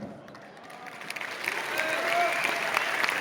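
An audience claps at a large stadium event in Delhi, the applause swelling from thin scattered claps into a fuller, steady ovation heard from within the crowd, with faint talk underneath.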